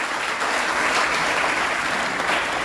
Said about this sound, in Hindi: जोरदार तालियां बजाइएगा।